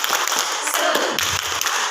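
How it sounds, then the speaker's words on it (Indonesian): A seated group at a training session does a spirited rhythmic clap, a steady wash of many hands patting together, loud and continuous with no voices over it. "marilah kita tepuk semangat dulu Bapak Ibu"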